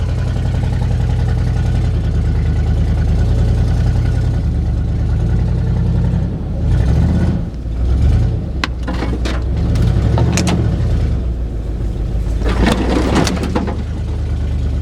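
A 1979 Ford F150 pickup with a modified 351 engine, long abandoned in a back yard, runs with a steady low rumble. Its revs rise in bursts as it starts to move, and a few clanks and knocks sound close by.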